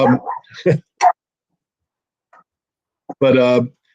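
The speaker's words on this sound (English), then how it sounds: "now you get to meet my other dog there, barking in the background." A dog barks in short, sharp bursts, a few at the start and one longer harmonic bark near the end, with quiet gaps between.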